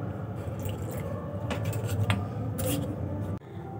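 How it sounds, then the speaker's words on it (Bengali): Water is stirred into a batter of flattened rice (chira) with chili powder, giving soft wet squishing and dripping sounds close up, steady for several seconds before a sudden drop. "আরও কিছুটা জল দিয়ে দেব।"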